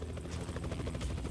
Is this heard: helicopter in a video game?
yes